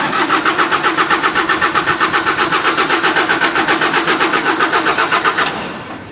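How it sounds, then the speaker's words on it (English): A Generac diesel generator engine, battery dead, cranks over on a jump box with a rapid rhythmic chugging that stays loud and even for about five seconds without catching, then stops abruptly. "As you can see, she'll turn over with the jump box, but I just can't get her started."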